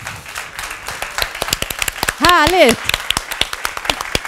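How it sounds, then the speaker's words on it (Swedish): A standing audience at a talk gives lively applause, with many sharp individual claps ringing out steadily from start to finish while one voice briefly speaks over them near the middle. "Engagerad applåd."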